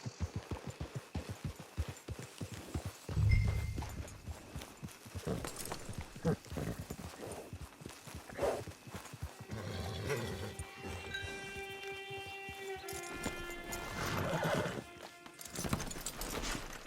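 Horse hooves clip-clopping in Red Dead Redemption 2 Online, a rhythmic trot fairly close, followed by a brief snort and a steady musical tone over a low ambient bed, with no talking.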